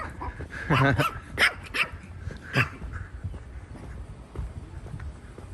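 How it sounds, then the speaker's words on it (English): Puppies bark in a few short, sharp yaps on a city street walk in Lexington, Kentucky, fairly close, followed by quieter background noise. "Hey, puppies."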